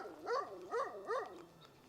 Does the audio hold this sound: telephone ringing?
no